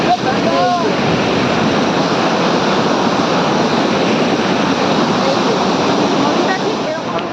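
A loud, unbroken rush of the fast-flowing Shaliganga river at Doodhpathri, Kashmir, with wind buffeting the microphone and a faint voice at the start.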